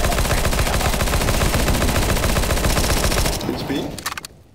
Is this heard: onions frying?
no